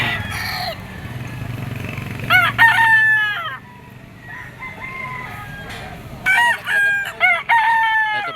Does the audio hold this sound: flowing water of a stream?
no